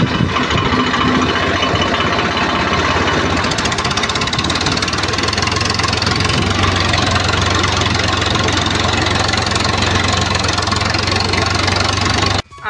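A farm tractor engine idles in a village field, producing a loud, steady, close-up low rumble that chugs evenly for the whole stretch and cuts off abruptly at the very end.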